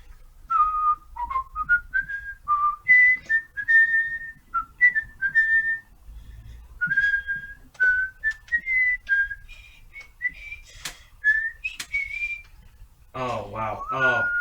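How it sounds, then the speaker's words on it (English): A person whistles a lively melody alone, in short phrases with brief pauses, close by and fairly clear. "when you're whistling its theme song"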